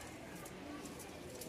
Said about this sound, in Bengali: দুই জোড়া কবুতর